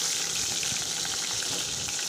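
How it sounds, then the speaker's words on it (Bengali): Rohu fish pieces frying in mustard oil in a wok give off a steady, dense sizzle with fine crackling that runs evenly throughout, close and fairly loud, with no voices. "এখন মাছগুলো ভালো মতন লাল লাল করে ভেজে নিয়েছি।"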